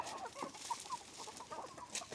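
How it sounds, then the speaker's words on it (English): Black Copper Marans roosters, about twenty-two of them, clucking inside a coop; soft, overlapping low clucks close by in a quiet, continuous murmur. "About 22 roosters in here."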